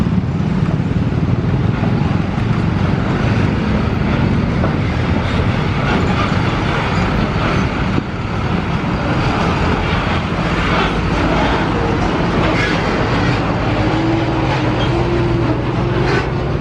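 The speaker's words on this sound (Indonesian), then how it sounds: "ini dia KA Argo Wilis dari Surabaya Gubeng tujuan akhir stasiun Bandung" The Argo Wilis passenger train speeds through a level crossing at around 120 km/h, a loud, close, continuous roar of wheels and wagons rumbling past for the whole span, with a faint tone emerging near the end.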